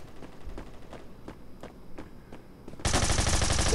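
In the online shooter game Bullet Force, rapid gunfire rattles off in a steady string of sharp shots, then a louder dense burst of fire takes over at the end.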